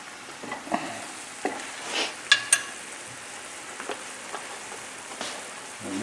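Small spoonful of sauce being stirred into salmon and spinach in a pan, a soft low sizzle with scattered scraping and clinking strokes, quiet and close.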